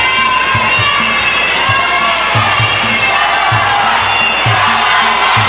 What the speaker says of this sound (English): And the fans are cheering Malaipet.